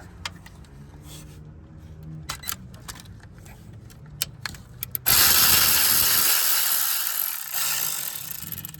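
A ratchet works a 10mm bolt off a wiring harness on a Toyota 3.5L V6 2GR-FE engine, a series of quick clicking bursts, then a loud steady whooshing noise takes over for the rest.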